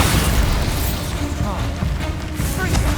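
The Bombarda spell goes off in the Hogwarts Legacy video game, a dense, rumbling blast that fills the whole soundscape and is layered with other game effects and a voice.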